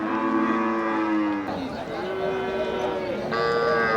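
A native cow at a busy cattle market moos loudly and at length, its long drawn-out calls rising and falling close by, with a second call near the end and market noise underneath.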